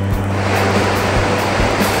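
Waterfall at the Ducha de los Alemanes in the Guadarrama mountains, a steady loud splash and rush of falling water, continuous and close, with a low hum underneath and no voices.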